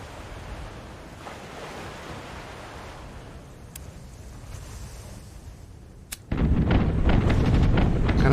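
Ship cannons boom in a pirate video game amid steady ocean surf and wind, a sudden loud burst of fire breaking in near the end and rumbling on as a dense roar.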